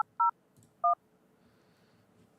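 Two short, clean touch-tone beeps from a phone keypad, spaced apart and loud against a faint steady hum, with no voices.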